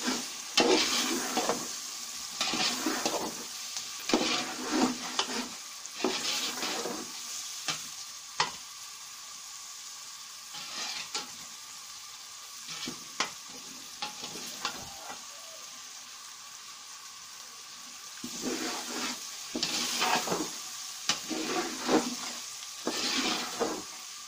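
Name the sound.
frying carrots in pan for vegetable pulao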